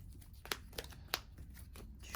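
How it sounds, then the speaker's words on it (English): Playing cards from a Legendary Marvel What If...? deck-building game are shuffled by hand, giving a series of faint crisp riffles and snaps at irregular intervals over a low background hum. "Let me shuffle my hand."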